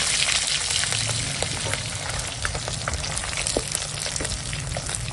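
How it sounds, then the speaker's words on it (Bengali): Pieces of pona fish (carp) fry in hot oil with a steady, dense sizzle throughout, up close, broken by small crackles and pops; no one speaks. "দেখো এখন মাছগুলো সব ভাজা হয়ে গেছে, আর তুলে নেবো।"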